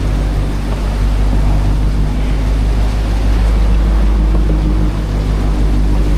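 Rough Pacific swells wash and slap against a boat's hull under steady wind and a constant low engine drone, a loud continuous roar with no talk.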